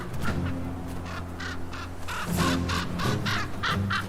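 Ravens caw repeatedly in a snowy far-north landscape during polar night, several harsh calls in quick succession, fairly close and loud over a low background drone.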